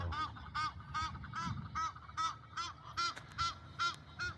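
Ducks in a park call with a steady series of about ten nasal honking quacks, evenly spaced and fairly close.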